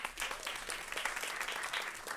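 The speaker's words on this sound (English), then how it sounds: "give them a round of applause" A lunch audience gives a round of applause, a soft but dense patter of many hands clapping steadily, somewhat distant and quiet.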